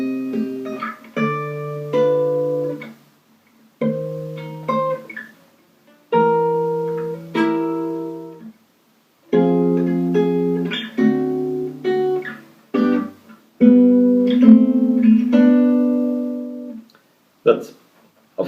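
Guitar playing the slow intro of a song, a series of separate plucked chord phrases with short pauses between them, clear and close with no talking.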